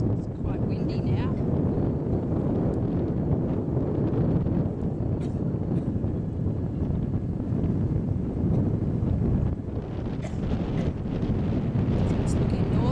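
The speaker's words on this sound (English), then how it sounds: "It's quite windy now." Strong wind buffets the microphone in a constant roaring rumble on a cruise boat on the Gold Coast waterways, with faint water and boat noise underneath and occasional muffled voices.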